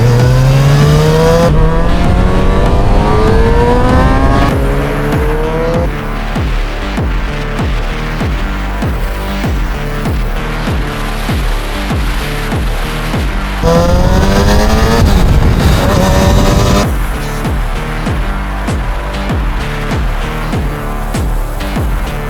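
A Kawasaki ZX-6R four-cylinder sport motorcycle revs hard while being ridden, its engine note climbing in rising sweeps through the gears, settling into a steady loud drone, then surging again in a second burst of acceleration. No talking.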